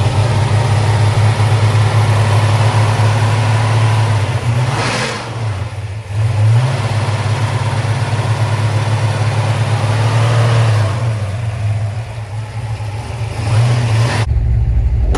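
A Dodge with a 540 cubic inch big-block V8, built to look like a stock 413 Max Wedge and running on pump gas, rumbles loudly up close, with two throttle blips rising over the lumpy idle before it cuts off.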